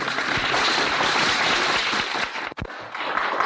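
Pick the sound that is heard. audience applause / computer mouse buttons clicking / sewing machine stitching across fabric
audience applause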